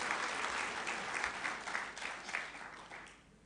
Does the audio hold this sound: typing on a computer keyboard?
no